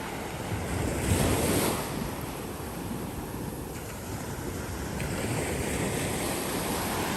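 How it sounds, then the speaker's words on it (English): Ocean surf rolls in a steady, broadband wash under gusting wind buffeting the microphone, with a slightly louder surge early on and no voices. "But look at that ocean."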